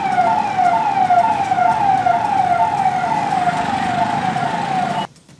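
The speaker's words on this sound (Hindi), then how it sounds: "सड़क पर एम्बुलेंस के सायरन की आवाज ही" Ambulance siren on a road, a loud close wailing tone sweeping up and down repeatedly before cutting off abruptly near the end.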